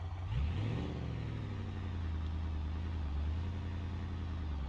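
A crawler vehicle in BeamNG.drive revs its engine on throttle, a deep rumbling drone that rises sharply at first, then holds a steady low growl throughout.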